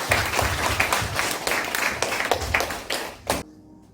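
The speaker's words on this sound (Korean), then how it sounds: "박수를 힘껏 올려드리겠습니다." A church congregation at a Sunday service applauds with dense, energetic clapping for about three seconds, then it cuts off abruptly into near silence.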